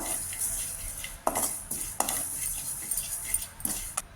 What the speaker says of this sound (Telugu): సోంపు వేసి వేయించుతున్నానండి, మంచిగా అరోమా రావాలని ఇది చేస్తున్నాను, ఫ్రై చేస్తున్నాను.